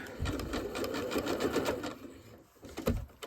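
A sewing machine stitches appliqué pieces in a steady, fast mechanical whir of rapid needle strokes for about two seconds, then slows and stops, ending with a faint click close by.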